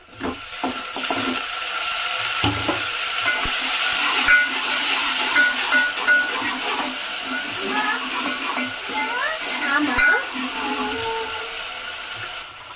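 Tomatoes hit fried onions in a hot pan: a continuous hissing sizzle with scraping stirs and utensil clatter, close to the mic.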